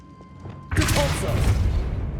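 A Repulsor spell goes off in Hogwarts Legacy, a sudden loud whooshing boom that cuts in after a quiet moment and rumbles on. A voice calls out over the start of the blast.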